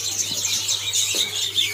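Calls from a caged buffalo myna (jalak kebo) in a bird kiosk selling rare species, a few short chirps and tweets close by over a steady low hum.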